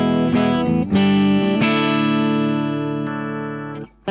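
A clean electric guitar with humbucker pickups played through a Dumble-style amp and a single 12-inch cabinet impulse response: several sustained chords ring out with long, smooth decay, loud and alone.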